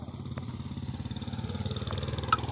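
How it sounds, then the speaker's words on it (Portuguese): A motorcycle engine idles close by with a rapid, pulsing putter that keeps a steady rhythm throughout, loud and unbroken, with a faint clatter now and then. "Essa moto atrapalhando aqui, né, velho?"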